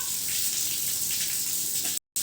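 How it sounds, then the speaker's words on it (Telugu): Water runs steadily from a household tap in a continuous close splashing hiss, then cuts off abruptly near the end for a brief moment of silence. "ఆఫ్ చేయి, ట్యాప్ ఆఫ్ చేయి."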